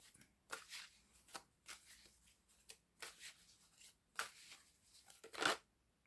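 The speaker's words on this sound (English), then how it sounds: "I don't think they're shuffling very well" Thick-cardstock oracle cards being shuffled in a series of short, brisk riffles and slides, close by and fairly quiet, with brief pauses between bursts.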